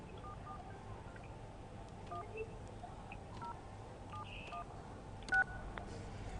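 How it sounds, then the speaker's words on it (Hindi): A telephone number is keyed in, producing a series of short DTMF beeps in an uneven rhythm over a low background hum, with one slightly louder tone near the end. "मैंने नंबर डायल किया है"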